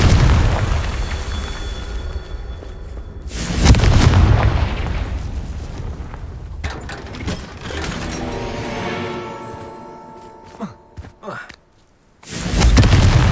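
Confringo explosion spell cast in Hogwarts Legacy, heavy booming blasts with rumbling bursts and crackling debris, loud and repeated, interleaved with quieter game sounds and a ringing tonal tail.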